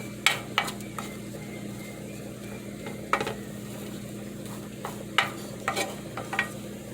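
Dried fish (bulad) fries in a little oil in a pan, giving a steady close sizzle broken by scattered clicks and scrapes of stirring.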